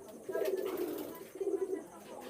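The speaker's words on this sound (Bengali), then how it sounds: "এই তিনটা কবুতর আছে" Pigeons coo softly nearby in two low, rolling phrases separated by a short pause, over faint background noise.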